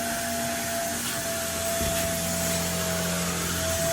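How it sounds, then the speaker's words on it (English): A vacuum cleaner runs steadily as it cleans a car's interior at a car wash, a loud, constant whine with a low hum beneath and no talking. "So he's doing the vacuuming there."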